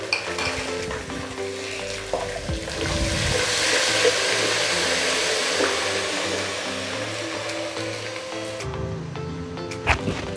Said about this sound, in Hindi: अब हमने साथ ही इसमें लहसुन अदरक का पेस्ट जो है वो भी डाल देना, थोड़ा सा ये उछलेगा